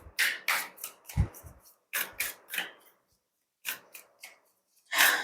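Tarot cards being shuffled and drawn from a deck, heard as close, crisp riffling bursts with short pauses between them and a final flurry, with no talk over them.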